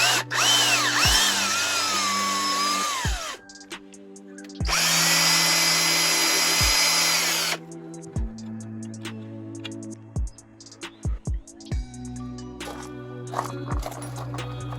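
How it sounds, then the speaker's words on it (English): A power tool whines in two long, loud bursts while threads are tapped for a new bolt in a motorcycle engine case. Sharp knocks and clatter of tool handling follow in a quieter workshop. "go ahead and tap this for new threads and get a new bolt put in there"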